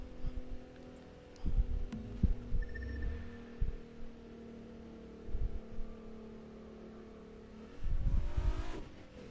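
A car engine in The Crew 2 drones along steadily with a low hum, swelling in a few rough throbbing bursts as the throttle opens, with no one talking.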